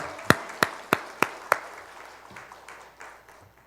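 A church congregation gives a short round of applause: five sharp, evenly spaced claps ring out close together, then softer scattered claps trail off.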